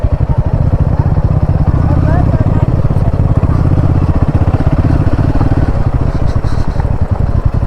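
A Royal Enfield Himalayan 450 motorcycle being ridden near Vandri Lake gives a loud, steady engine drone that continues throughout, with rumbling road and wind noise underneath.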